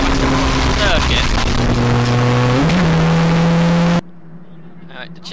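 Stock hatchback race cars racing at Mallory Park, loud engines howling and shifting pitch as they pass close by, under a commentator's voice, before the sound cuts abruptly to quieter background.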